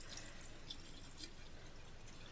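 Cold water is poured into a jar as a steady, faint, continuous trickle and splash that holds evenly for a couple of seconds.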